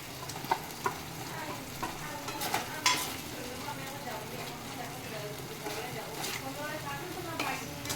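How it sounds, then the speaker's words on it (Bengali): Fried paneer pieces stirred into a simmering masala in a pan, giving a steady low sizzle with scraping spoon strokes and occasional utensil clinks, close and continuous throughout. "এবার আমি ভাজা পনিরগুলো দিয়ে দিচ্ছি।"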